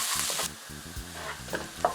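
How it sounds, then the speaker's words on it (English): Grated ginger and chopped garlic fry in hot oil over high heat, giving a soft continuous sizzle broken by stirring scrapes in a close, quiet pan. "When the oil is hot, put the other half of the grated ginger and the chopped garlic."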